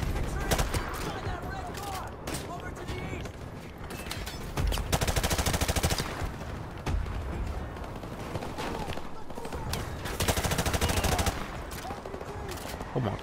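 Heavy automatic gunfire from Call of Duty: Modern Warfare Remastered's campaign, loud and nearly continuous bursts with sharp cracks layered over a dense battle background.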